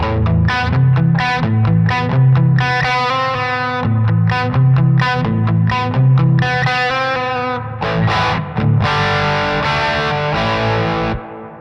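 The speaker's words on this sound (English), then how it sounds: "So now that reverb just sits under my guitar tone beautifully." Electric guitar played through a Sonicake Pocket Master multi-effects unit with reverb, loud driven chords and melodic runs ringing into a dark, smooth reverb tail, with no talking.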